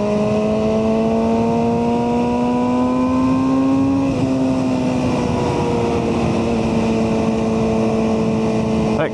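BMW M1000R motorcycle, a 2024 model with an Akrapovic header exhaust and BT tune, runs loud and close with a steady engine drone, pitch easing up, dipping briefly, then holding.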